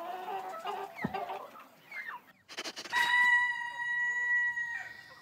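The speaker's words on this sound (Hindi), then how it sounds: "वो मुर्गा।" A cartoon rooster in an animated short film clucks in short bursts, then lets out a loud, drawn-out crow that rings clearly over a quiet background.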